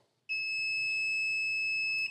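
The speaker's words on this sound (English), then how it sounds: "I should get a beep." A multimeter gives a continuity beep across a good fuse from a gas furnace: a single steady, high-pitched electronic tone starts abruptly and holds unbroken to the end, clean and alone.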